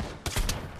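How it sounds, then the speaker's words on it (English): A few quick gunshots fire in a Pavlov VR shooter game, sharp bursts close together over under a second. "I just decided to shoot him after he died."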